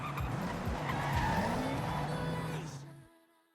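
A car in the racing game Forza Horizon 6 brakes to a full stop. Tires squeal and skid loudly under a dropping engine note for about three seconds, then the sound cuts to near silence.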